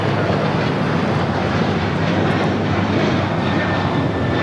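Alaska Airlines Boeing 737-900 taking off from Los Angeles airport toward Seattle, a loud, steady broadband jet roar sustained without a break.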